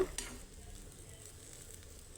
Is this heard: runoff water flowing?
no